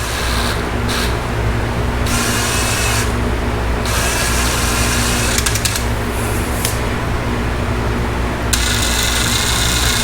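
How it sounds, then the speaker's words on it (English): Power drill spinning a bent valve from a Honda 350x chucked at its very edge, a loud continuous whirring hum close by, pulsing as the trigger eases and squeezes. "I was chucking them up in the drill right at the very edge"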